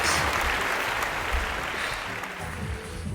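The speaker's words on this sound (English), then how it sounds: "Give yourselves a big round of applause!" Children and families at a summer reading balloon magic show at a public library applaud together, a broad, steady wash of clapping that holds loud and fairly even for the full three seconds.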